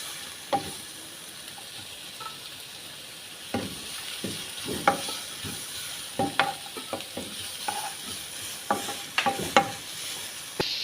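Chicken is stirred in a pan over a steady sizzle, with irregular scraping clinks of a utensil against the pan scattered through, close and without talk.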